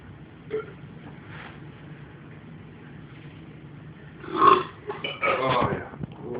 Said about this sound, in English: We gotta burp past that.